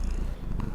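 Cat purring in the Battle Brothers Legends video game, a brief, low, close rumbling purr that continues steadily.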